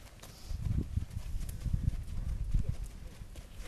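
Horse hooves clip-clop irregularly on the ground during a first test ride, several muffled close thuds with a faint snort or whinny, no talk over them.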